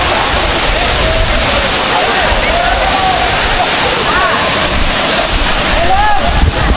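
Aagaya Gangai waterfall at Kolli Hills, a loud continuous roar of falling and splashing water heard up close, filling the whole clip without a break, with voices partly buried beneath it.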